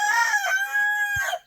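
Chickens in a backyard coop give a single drawn-out, crowing-like call, close and fairly faint, with a short cluck near the end and no talking.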